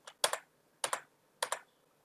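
A Tab key pressed three times on a computer keyboard, each press a crisp double click of key-down and release, evenly spaced in a quiet room.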